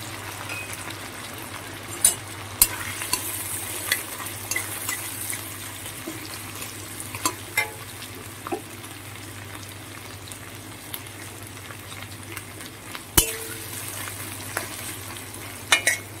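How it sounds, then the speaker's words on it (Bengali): Chopped onions frying in oil left from frying crab, a steady close sizzle with occasional stirring clatter and sharp utensil knocks, no talk. "এবার এই কাঁকড়া ভাজার তেলে কুচিয়ে রাখা পেঁয়াজগুলো দিয়ে লাল লাল করে ভেজে নেব।"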